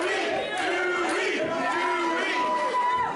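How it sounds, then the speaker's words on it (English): A professional wrestling crowd shows its displeasure with a sustained roar of shouting, jeering voices, a dense and loud mass of yells rising and falling over about three seconds, with speech mixed into the din. "this crowd showing their displeasure at Sidney Steele."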